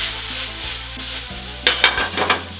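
Ground meat seasoned with Cajun spice, salt and pepper sizzles in a frying pan while a utensil stirs and breaks it up, with a steady fry underneath and several sharp scraping strokes near the end.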